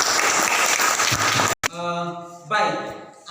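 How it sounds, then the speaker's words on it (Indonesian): Classroom audience clapping together after a science experiment on melting and resolidifying a substance, a dense steady burst of applause that cuts off abruptly, followed by a tonal voice and murmuring. "kita berikan aplaus."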